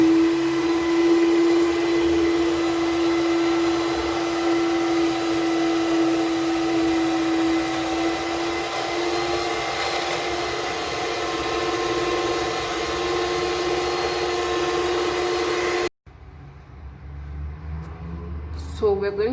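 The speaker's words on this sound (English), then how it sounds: "an electric mixer." An electric mixer whirs steadily while beating sugar and oil for a red velvet cake batter, a loud continuous motor drone with a sustained pitch that cuts off abruptly near the end, followed by quieter kitchen sounds.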